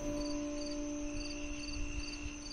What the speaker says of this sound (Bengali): চারিদিকে ঝিঝি পোকার ডাক আর জোনাকির আলোতে আমাদের গ্রাম তখন